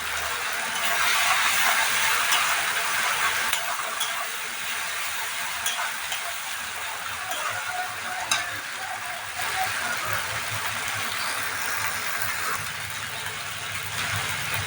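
Potato curry frying and being stirred in a pan, a steady close sizzle broken by scraping spoon strokes throughout, with no talking.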